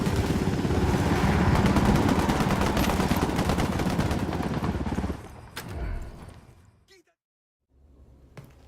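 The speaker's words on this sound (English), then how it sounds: "I'm shooting these fuckers." Dense rapid gunfire rattles loudly in a shootout against enemies in the video game Ghost Recon Wildlands, sustained bursts for about five seconds, then fading into a couple of isolated shots and near silence.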